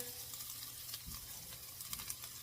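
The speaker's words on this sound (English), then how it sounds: "I'm dropping in my diced up jalapeno. We'll get that mixed in with the onions and the butter." Diced jalapeno sizzles in butter with onions in a skillet, a faint, steady crackling fry with a few soft stirring clicks.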